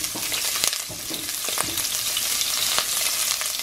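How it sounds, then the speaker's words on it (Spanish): Onion fries in two teaspoons of cooking oil in a preheated pot, a loud, dense sizzle close up with frequent crackles and a few scraping stirs throughout. "En la olla previamente calentada voy a estar poniendo lo que son las 2 cucharaditas de aceite del que utilicen para cocinar y estaré poniendo la cebolla"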